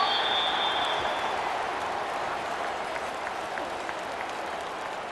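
A football stadium crowd sends up a broad, steady roar and scattered clapping that slowly fades a little, with no voices standing out above the wash.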